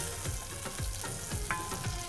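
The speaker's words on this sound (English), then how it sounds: "we're just gonna saute this till the garlic slightly starts to turn" Garlic, cumin and curry leaves sauté in a pan on lowered heat, a soft steady sizzle with a few light stirring scrapes and small pops, fairly quiet and with no voices.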